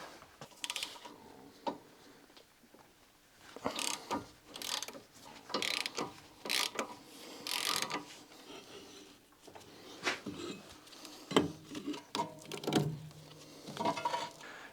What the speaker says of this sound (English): I'm gonna undo the caliper.